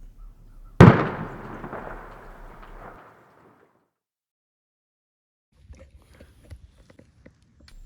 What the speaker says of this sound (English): I hear a shot.